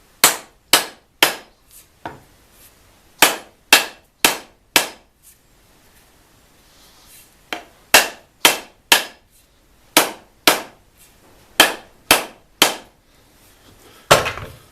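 A hatchet head is driven onto a new wooden handle with sharp, ringing hammer blows in bursts of three to five, separated by short pauses.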